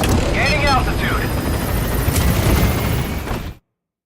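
The Pequod helicopter in Metal Gear Solid V climbs with a continuous thumping rotor and engine roar, loud and close, while a voice speaks briefly over it before everything cuts abruptly to silence.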